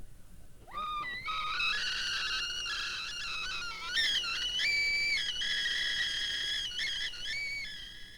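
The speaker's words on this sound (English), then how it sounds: "That's the sound that a kettle makes just as it starts to boil" A kettle whistles just as it starts to boil, giving a shrill, wavering tone that rises in pitch and stays loud and steady for several seconds, with a few brief breaks.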